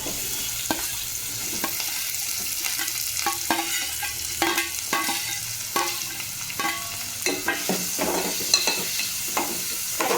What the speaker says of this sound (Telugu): కొద్దిగా ఆయిల్ వేసుకుని కట్ చేసి పెట్టుకున్న ఆనియన్స్